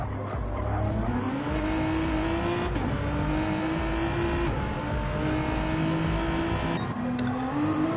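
Gran Turismo-style GT3 race cars, including a Supra, circle Laguna Seca in a racing video game, with engines droning and rising in pitch through gear changes and tires squealing, loud and steady throughout.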